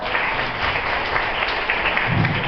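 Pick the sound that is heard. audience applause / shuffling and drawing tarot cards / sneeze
audience applause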